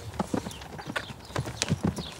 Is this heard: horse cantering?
yes